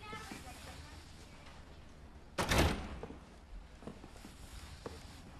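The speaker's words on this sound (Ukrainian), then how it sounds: "Заходь і зачини двері." A door is shut with one short, firm thud midway through a scene of steady background noise, with light footsteps or taps around it.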